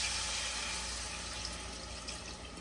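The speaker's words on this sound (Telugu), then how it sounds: "1 గ్లాస్ వాటర్ తీసుకున్నాను నేను." Water from a glass pours into a simmering Andhra-style fish gravy curry, a steady soft wash of liquid lasting a few seconds with no talk.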